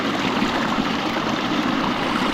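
River water flows in a steady, even rush of broadband noise, fairly loud and close, with no voices over it.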